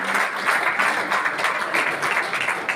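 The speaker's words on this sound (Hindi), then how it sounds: "एक जोरदार तालियां अख्तर भाई को सम्मान करते हैं" Audience at a Green Army of Raipur ceremony claps in a steady, dense burst of applause honouring a member, moderately loud and sustained throughout, with faint voices mixed underneath.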